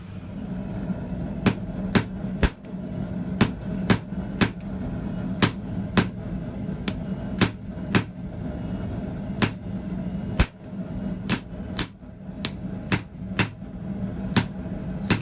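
A blacksmith's hammer draws out thick steel stock at a steep angle, striking loud, sharp, ringing blows in a steady rhythm of roughly two per second, with a low hum underneath.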